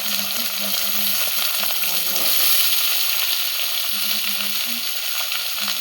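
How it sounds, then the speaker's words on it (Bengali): Vegetables frying in oil over a medium gas flame, a loud, steady close-up sizzle with faint stirring and a low tonal hum underneath. "এর মধ্যে এখন আমরা ভেজিটেবিলগুলো অ্যাড করে দিচ্ছি, খুব ভালো করে 5 মিনিট মিডিয়াম ফ্লেমে আমরা ভেজে নেব"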